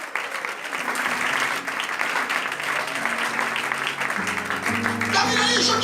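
A church congregation applauds the Lord during a Sunday morning sermon, a steady sustained clapping over the whole stretch with a low organ or keyboard chord sounding underneath.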